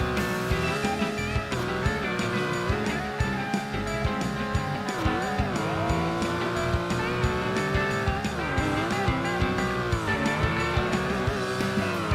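A racing car from the video game Beach Buggy Racing drives with a continuous, loud engine drone whose pitch rises and dips as it accelerates and slows. Tire squeal and skidding cut in between.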